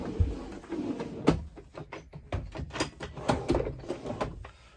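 A series of sharp clicks and thuds as storage drawers and small doors in an Adria Matrix Access 600DT motorhome are opened and shut, with rattling between the knocks.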